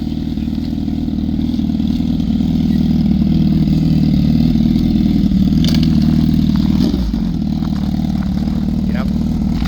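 A Gen 3 Suzuki Hayabusa drag bike engine runs steadily and loudly at the drag strip, a continuous droning idle with a brief rise and dip in revs partway through.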